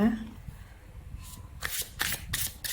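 Tarot cards being shuffled by hand, a few quick riffling bursts close up following someone speaking at the start.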